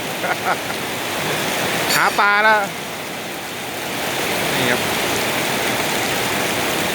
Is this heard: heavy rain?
yes